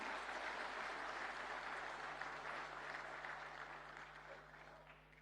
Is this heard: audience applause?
yes